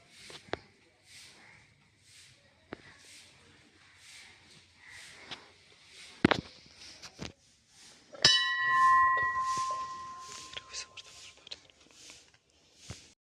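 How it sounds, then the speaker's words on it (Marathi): One temple bell is struck clearly and its ringing slowly fades, among scattered clicks and light movement noises in a quiet space at Kolaba Fort, Alibag. "आणि आपला घंटा आहेत."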